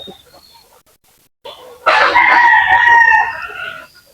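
Close chicken calls from a farm flock with a sick hen, a rooster's drawn-out crow with clucking around it, loud and clear after a brief quiet moment.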